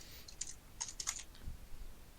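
Typing on a computer keyboard, a few quick clusters of light key clicks close to the mic, faint against a quiet room.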